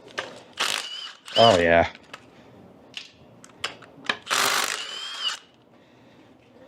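A small power impact tool works at flywheel bolts on a car engine, giving loud, short whirring and rattling bursts up close, spaced by pauses, with a brief spoken exclamation and metallic handling clatter between them.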